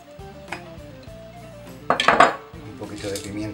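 Eggplant salad with olive oil being stirred in a bowl, with a metal spoon clinking and scraping close by, soft taps first and then a louder flurry of clatter midway before easing off.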